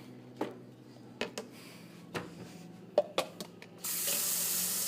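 Water runs from a kitchen sink tap into a cup, a steady wash of flow with a few sharp clinks and knocks from handling the cup, then a louder, fuller rush at the end as the stream strengthens.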